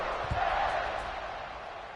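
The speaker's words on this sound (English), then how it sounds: "this crowd is buzzing after that last score" Crowd at a college football stadium, Auburn hosting UConn, a steady distant roar and murmur right after a score, with a faint thump near the start and no clear voices standing out.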